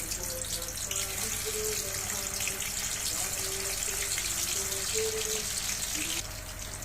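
Paneer pieces fry in hot oil in a kadhai over a low flame, giving a steady, close sizzling hiss that runs unbroken throughout.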